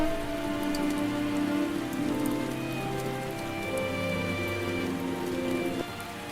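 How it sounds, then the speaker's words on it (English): Steady rain falls on surfaces outside a cave homestead, a dense continuous patter with scattered individual drops, moderately loud and unbroken, with no voices. "Look at the rain."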